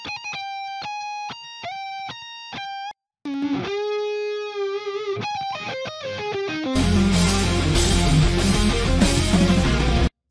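Distorted lead guitars in a melodic death metal mix, first as a solo line of bright picked notes and runs, then joined by the full heavy band with drums and bass, growing louder and denser toward the end.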